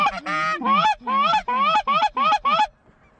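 Geese honking during a goose hunt: a close, loud series of about seven nasal honks in quick, uneven bursts, heard alone with no talk.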